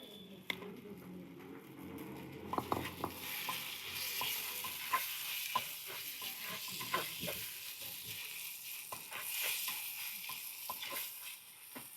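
Anchovies fry in oil with a light, steady sizzle while a spoon stirs them, giving repeated scraping and clicking sounds close by, and there is no speech.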